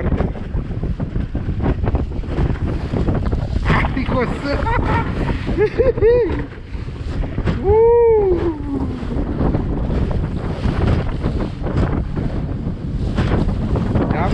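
Strong wind buffets the microphone continuously on a small fishing boat on open water, with splashing waves and a motor underneath; a man briefly exclaims partway through.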